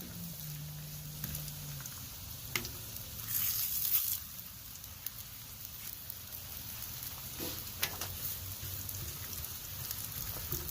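Taco shells frying in olive oil on a Blackstone griddle give a soft, steady patter and crackle throughout, near and fairly quiet, with a few brief louder bursts and clicks.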